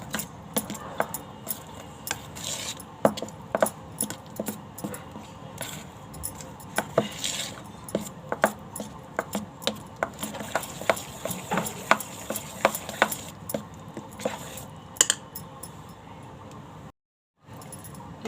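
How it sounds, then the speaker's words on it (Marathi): Moong dal idli batter being beaten in a bowl with a spoon, giving quick irregular clinks and scrapes against the bowl that carry on steadily for a long stretch, then break off briefly near the end. "चांगलं फेटून घेते."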